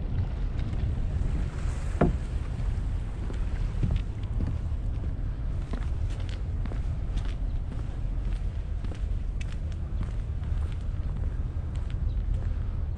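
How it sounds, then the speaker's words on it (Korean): Sea water washes along a coastal trail on Incheon's Dulle-gil Course 13, a steady low rushing wash mixed with wind buffeting the microphone and faint footsteps, continuous and fairly close. "물소리가 생각보다 정겹네요."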